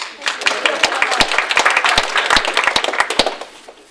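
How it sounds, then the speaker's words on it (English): Audience at an Australian SharePoint conference breaking into applause, individual sharp claps standing out within a fairly close, lively patter that swells and then fades toward the end. "you can give me a round of applause"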